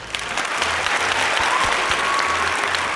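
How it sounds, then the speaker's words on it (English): Audience at a comedy podcast taping giving a round of applause, a dense, steady burst of clapping from a crowd that holds evenly for a few seconds and then cuts off. "Let's get another round of applause."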